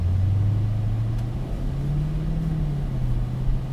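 Dodge Hellcat engine on a track under light throttle, a steady low drone that rises gradually in pitch and holds, continuous and fairly loud without speech.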